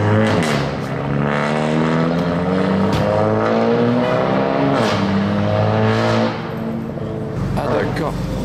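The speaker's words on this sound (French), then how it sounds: "Il y a cette M3 ici qui démarre" BMW M3 engine starting and idling on a Paris street, a loud, deep rumble with rising harmonic revs, with people talking over it.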